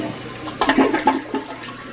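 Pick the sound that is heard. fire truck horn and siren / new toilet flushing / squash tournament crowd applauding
new toilet flushing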